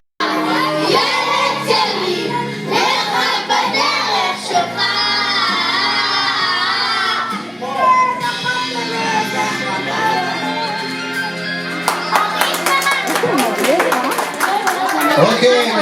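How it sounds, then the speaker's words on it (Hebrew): Clapping, shouting and excited children's cheers fill a 9th birthday party, mixed with loud music and crowd chatter throughout. "מחיאות כפיים סוערות"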